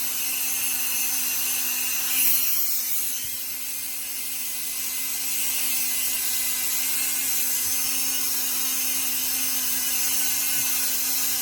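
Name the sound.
Dremel rotary tool trimming polymer clay pendant edges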